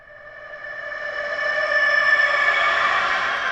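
A reverse-reverb swell, a smeared echoing tone that gradually builds in loudness and holds, sounding like a rooster call's reverb played backwards.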